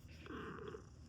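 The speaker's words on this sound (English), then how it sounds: "You purring?" A cat purring softly and close by in a kitchen during breakfast, a low steady rumble running without a break under faint room noise, with no talk over it.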